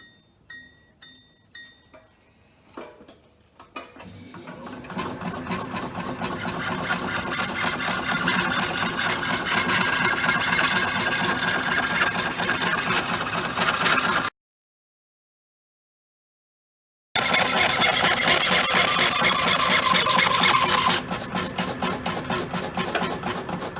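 An Excel No.4 three-phase die filer starts up after a few slow ticks and runs with a fast, steady reciprocating rasp and whir, then stops abruptly for a few seconds of silence before running again at full pace.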